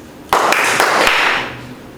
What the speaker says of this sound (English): Clap only twice.